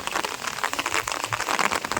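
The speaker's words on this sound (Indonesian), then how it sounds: "ini sudah rintik-rintiknya makin deras, tapi saya pakai payung ya" Steady rain patters densely on an umbrella in an avocado orchard, a constant close crackle of drops with no pauses and no voices.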